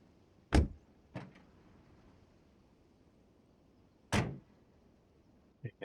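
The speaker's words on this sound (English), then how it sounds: "all the vehicles have opening doors, and they have different sounds too, based on what they are" Vehicle doors in the BeamNG.drive driving game open and shut in a few distinct, separated thumps and clunks, with a softer double click at the end, against a quiet background.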